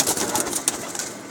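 Pigeons coo softly several times in short repeated calls over a steady background hiss, with no talking.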